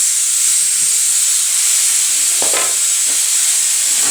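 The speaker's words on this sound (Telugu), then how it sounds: "చిన్న మంట పెట్టి ఈ బొక్కలు కొంచెం వేగనిద్దాం నూనెలో" Mutton bones fry in oil over a low flame with a steady, close sizzling hiss that runs the whole time, broken by a few faint stirring clicks.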